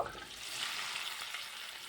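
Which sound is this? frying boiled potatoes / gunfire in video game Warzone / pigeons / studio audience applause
frying boiled potatoes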